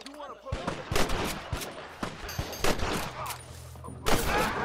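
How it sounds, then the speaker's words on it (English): Rapid gunfire in Red Dead Redemption, a volley of sharp shots cracking in quick succession at moderate loudness, with bursts clustered near the start and a louder shot toward the end. "Am I shooting at someone there?"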